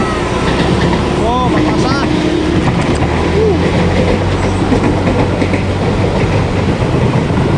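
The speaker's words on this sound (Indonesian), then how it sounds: "Ada kereta keluar stasiun teman-teman." A KRL commuter train pulls out of Pasar Minggu station in Jakarta, a loud steady rumble of rail and traffic noise running throughout, with a few brief squeals and tonal sweeps riding over it.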